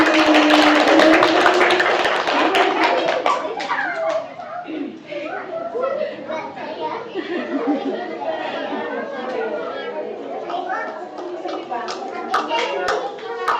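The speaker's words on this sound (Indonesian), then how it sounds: "Tepuk tangan sekali lagi." Audience applause at an Isra' Miraj commemoration gathering, a loud burst of clapping that gives way to scattered claps under murmuring chatter and children's voices.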